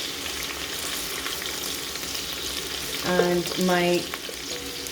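Onions and garlic fry in a pot with a strong, constant sizzle and stirring, while a brief tonal voice rises over it near the end.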